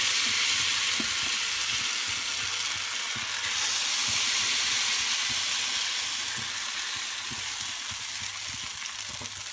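Rice and coconut pancake batter frying in an oiled pan, a steady loud hissing sizzle that holds throughout, with faint low bumps underneath and no talking.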